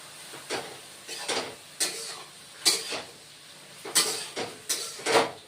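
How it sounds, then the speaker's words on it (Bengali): Ridge gourd and green chili fry in a pan, with repeated stirring and scraping strokes and a low sizzle in short bursts, close by. "এখন আরেকটু ভেজে নেব"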